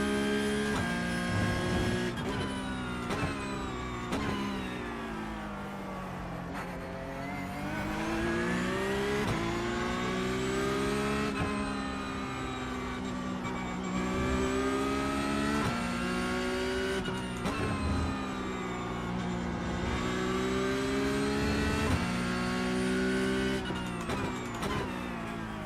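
Race car engine in iRacing at Laguna Seca, a continuous loud high-revving drone that climbs and dips through gear changes and braking, with occasional tire noise.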